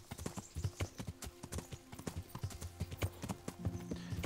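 Horse hooves clip-clop in Kingdom Come Deliverance, a steady walking rhythm of close, crisp hoof strikes continuing throughout, with a soft harness rattle under them.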